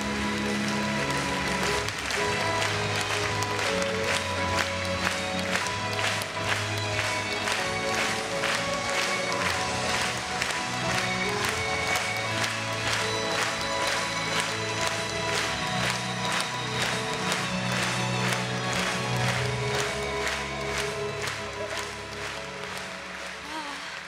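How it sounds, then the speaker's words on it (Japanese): Sustained, dense applause from a large audience fills an arena after a Mao Asada ice show, a continuous crackling wash of many hands clapping with faint crowd murmur beneath. "会場からは感謝を込めた拍手が送られた。"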